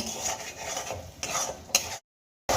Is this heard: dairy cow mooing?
no